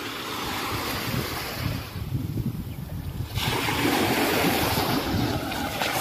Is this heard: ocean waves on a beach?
yes